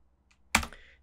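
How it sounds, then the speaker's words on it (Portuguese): A single Enter key press on a computer keyboard lands as one sharp, close click with a short clatter, preceded by a faint tap in otherwise quiet surroundings. "eu apertei Enter ali para poder fechar essa informação"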